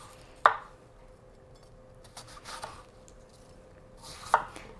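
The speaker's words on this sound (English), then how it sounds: "Let's go ahead and just give an example of one apple sliced. So I'm going ahead and I cut it in 4s." A knife cuts through an apple on a cutting board, giving two sharp, close chopping knocks a few seconds apart with faint handling noises between them.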